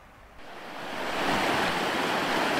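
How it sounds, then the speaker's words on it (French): A mountain torrent in the Ardennes flowing down toward the Meuse, a broad rushing roar of water that swells in loudness over the first second and then holds steady and close. "Et voilà un joli torrent qui vient des hauteurs"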